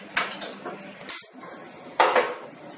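A metal tawa griddle pan set down on a gas stove, with a few close clanks and scrapes of metal on the burner grate, the loudest knock coming near the end, and no talk.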